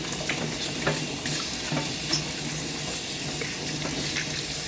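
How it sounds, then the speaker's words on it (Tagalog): Tap water runs steadily into a sink as vegetables are washed by hand. It makes a continuous close splashing hiss, with small irregular splashes and knocks as the water hits the produce. "ayan sa tubig. Tapos hugasan mo."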